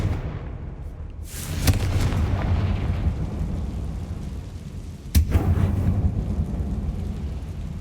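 A Confringo fire spell bursts in Hogwarts Legacy inside a tomb-like chamber, giving a sharp blast near 1.2 seconds and a second, harder crack around 5.2 seconds, each trailing into a low rumbling roar.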